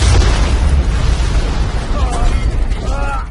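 Missiles explode in the Ratchet video game, a dense rumbling barrage of booms and bursts filling the whole stretch, with faint voice-like tones near the end.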